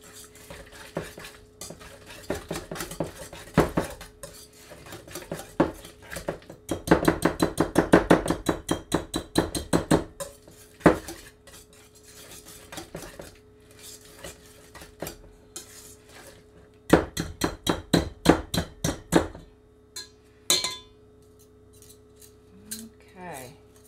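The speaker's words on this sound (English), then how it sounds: "So we're going to whisk that together." Whisking ingredients in a bowl for paleo, AIP, gluten-free sweet potato biscuits: a close, rapid clinking and scraping of a whisk against the bowl, arriving in several bursts of fast rhythmic strokes separated by quieter pauses.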